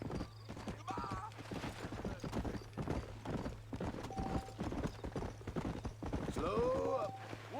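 Horse hooves clip-clop steadily in the video game Red Dead Redemption, a rhythmic string of close hoof beats over a low constant hum, with a rider's voice talking and brief whinny-like tones.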